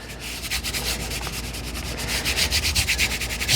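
Wet sanding blisters out of a guitar's lacquer finish, a steady rubbing hiss of back-and-forth strokes close by that grows louder and more rhythmic toward the end.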